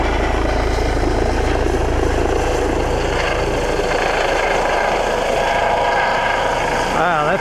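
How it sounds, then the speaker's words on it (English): Rescue helicopter arriving in the Simpson Desert, a loud, continuous rotor chop and engine roar nearby that holds steady throughout, with a voice briefly audible under the noise. "we've had to get the rescue chopper in."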